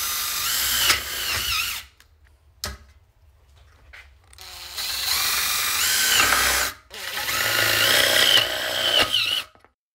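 Three loud bursts of a power drill driving self-drilling screws into metal wall channel, each whirring run lasting a couple of seconds with brief pauses and clicks between them.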